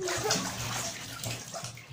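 Water splashes and sloshes in a filled bathtub, close and continuous, with soft gurgles and ripples throughout.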